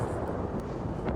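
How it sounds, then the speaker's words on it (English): Big explosion in the game Destiny 2, a dense low rumbling blast that fills the brief moment at steady loudness, no voices. "There's your big explosion, Kelly."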